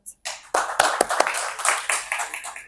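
An audience at a book review session breaks into applause to welcome a guest, starting abruptly after a brief pause and carrying on as a moderately close, somewhat sparse patter of clapping with a few sharper claps.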